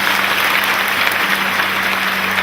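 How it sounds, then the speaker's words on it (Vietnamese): A dense, steady round of audience applause for Nick Vujicic at a school event, sustained clapping from a large crowd of students throughout. "hãy dành tặng cho anh Nick một tràng vỗ tay thật nồng nhiệt hơn nữa đi ạ"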